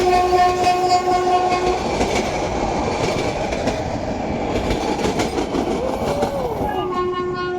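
A train crosses a river bridge in Gujarat during a flood, its horn sounding in long tones at the start and end over continuous clattering wheels and rumbling wagons, loud and close.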